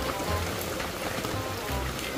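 Steady rain falls in an outdoor setting, a close, continuous hiss and patter of drops on surfaces lasting a couple of seconds, with no talking.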